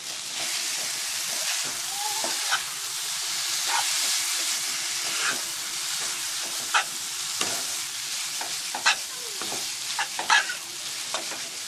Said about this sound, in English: Fold in the noodles so that it gets coated with the spices and the vegetables